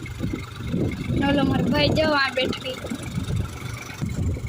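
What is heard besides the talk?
GPS tractor engine running while plowing a field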